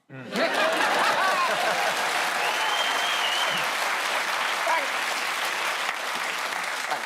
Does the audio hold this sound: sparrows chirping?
no